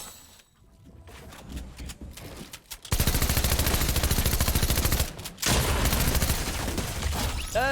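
Heavy shotgun firing in a video game, a quieter stretch giving way to a loud, sustained barrage of rapid booming shots with a short break partway through.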